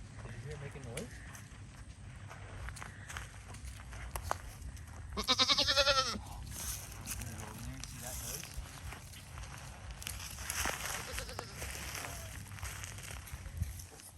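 A goat on a farm gives one short, loud bleat midway through, while a parent talks to a small child at length around it and footsteps shuffle nearby.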